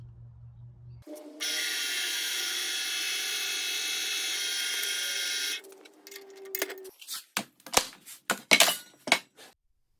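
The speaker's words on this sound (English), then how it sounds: "I've got this very aggressive speed bore bit in there" A 3/4-inch speed bore bit drilling into wood for a Moxon vice, starting with a steady high whine from the spinning drill for several seconds, followed by a series of sharp, irregular bursts as the bit bites and cuts, close and alone.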